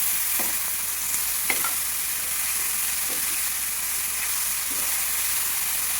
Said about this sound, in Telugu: తగినంత సాల్ట్ వేసుకొని బాగా వేయించుకోవాలి. బీరకాయ అన్నీ బాగా మగ్గేంత వరకు వేయించాలి.